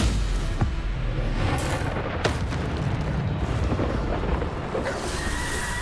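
Bombarda spell blasts in the wizarding game Hogwarts Legacy make loud, dense booms and crackling bursts. Several sharp impacts rise from a constant roar of combat noise.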